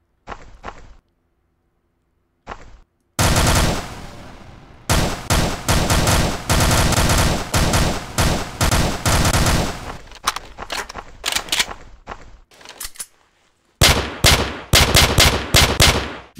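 Video game gunfire aimed at the sky, with loud bursts of rapid machine-gun fire in long sustained runs broken by short pauses and a few single shots, close and dominant.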